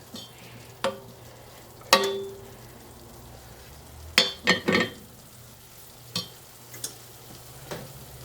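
Garlic sizzles quietly in a warm pan, a low steady frying hiss broken by several sharp clinks and scrapes of stirring utensils against the pan.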